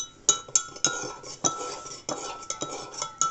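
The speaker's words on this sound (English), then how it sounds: "And then stir it" Spoon stirring a mixture in a bowl or cup, a run of light metallic clinks and scrapes against the container, close and fairly quiet with no talk.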